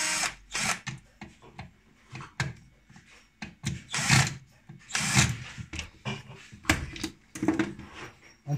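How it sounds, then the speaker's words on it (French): A power screwdriver driving the four supplied screws into a lock cylinder fitting, giving repeated short close whirring bursts in a steady stop-start rhythm. "Et on prend les vis fournies pour les visser. Donc on visse les 4 vis."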